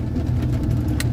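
A vehicle engine-braking downhill in second gear with the retarder fully on, a steady low drone and whir that holds even and loud, with no voices over it.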